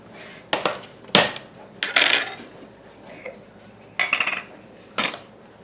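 Butter goes into a skillet on medium heat with a series of close metallic clinks and scrapes of a utensil against the pan, coming in short separate bursts between quiet gaps.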